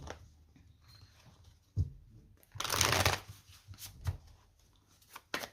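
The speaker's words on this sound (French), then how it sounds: "On pose nos 5 cartes." Tarot cards being laid out in a row of five, soft close shuffling and slapping of cards with one longer riffle in the middle and a few light taps.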